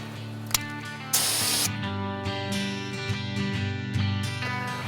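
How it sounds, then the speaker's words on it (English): A training bear spray canister discharges outdoors by a river, a short sharp burst of hiss after a brief click, with steady background hum and flowing noise around it. "These training canisters are a great way to practice taking the bear canister out of your holster and actually initiating the spray."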